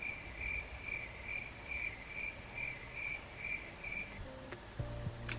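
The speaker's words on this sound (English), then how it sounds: "Crickets." Crickets chirping in a steady repeating pulse, a clear high trill recurring at even intervals over a quiet background, ending with a brief soft tonal sting.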